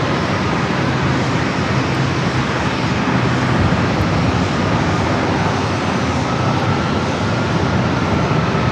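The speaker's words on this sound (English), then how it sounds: "Flight heading to Indianapolis. 737-800 with Southwest." A Southwest Boeing 737-800 jet at San Diego airport gives off a loud, steady engine roar that fills the whole stretch without a break, with no voices over it.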